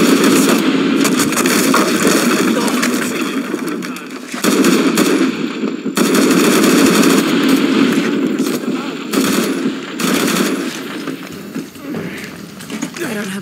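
Gunfire in Shadow of the Tomb Raider rattles in loud, dense bursts for the whole stretch. It is thick with other clashing game noise and dips briefly twice.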